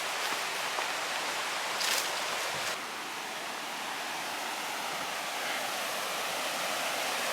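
Waterfall at Prumirim in Ubatuba, a steady hiss of rushing, splashing water that stays fairly constant, with a brief brighter splash or noise burst near the start and no talking.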